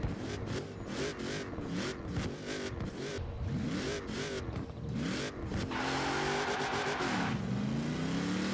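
A 2005 Honda NSX-R GT accelerates hard in Forza Horizon 4, its engine revving in rapid climbing sweeps punctuated by quick gear shifts, then settling into a sustained high-pitched roar near the end.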